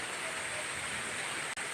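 Light drizzle falls steadily in a Tamil village, a soft, even hiss of rain with no other sounds, faint and brief.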